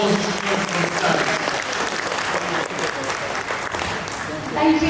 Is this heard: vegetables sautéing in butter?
no